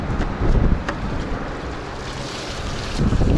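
Strong seaside wind buffets the microphone in gusts over a steady roar of waves, with no one speaking.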